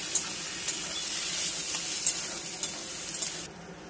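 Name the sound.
stirring mashed cabbage with chili in a frying pan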